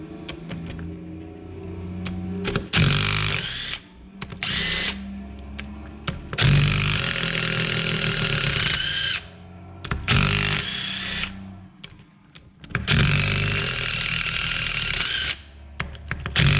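A power tool, likely an impact wrench, loosens bolts on the drive motor of a Bobcat 763 skid steer loader in a shop, with loud repeated bursts of whirring and hammering separated by short pauses.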